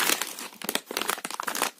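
Birthday gifts come out of plastic bags with close, busy crinkling and rustling in rapid irregular bursts, with no talk.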